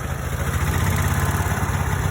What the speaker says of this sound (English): So you notice how the engine changed now, because now she can idle.